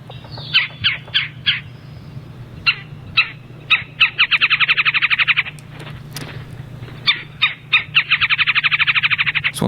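Woodpecker calls: bursts of sharp, repeated notes and fast rattling trills, close and clear, over a steady low background hum.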